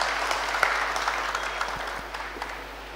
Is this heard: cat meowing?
no